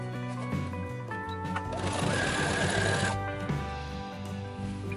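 A sewing machine runs a seam along the edge of a Jedi-style robe in brown thread. It gives a continuous, close mechanical whirr that swells in the middle, with tonal background music underneath.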